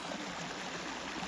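Water runs steadily along a village stream in a dense, continuous broadband rush, close and unbroken for the whole stretch, with no voices over it.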